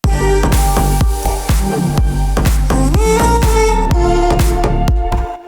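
A loud electronic dance drop from a track pounds with steady kick drums and sharp claps under synths, a thick subline bass and effects, driving at an even, fast tempo.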